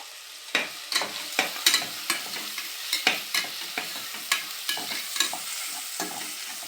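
Onions fry in a pan with ginger paste, giving a steady sizzle broken by repeated sharp scrapes and clatters of stirring at an irregular rhythm, close and moderately loud.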